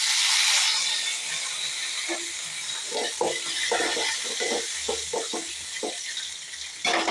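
Curry leaves dropped into hot oil with mustard seeds and urad dal after the stove is switched off, giving a close, steady sizzle and hiss with scattered crackling pops throughout.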